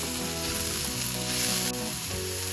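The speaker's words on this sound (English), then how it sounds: "next I'm going to add in the chopped capsicum and cook it for another minute." Chopped capsicum frying in a hot pan for paneer manchurian, a steady loud sizzle with a faint stirring scrape near the end.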